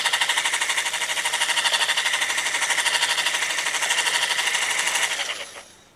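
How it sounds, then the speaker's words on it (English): Eggs whites, yolks and cream being whisked for a fish tart filling: a fast, even rhythmic rattle of whisk against bowl, close and loud, running steadily before fading out at the end. "and whisk it up."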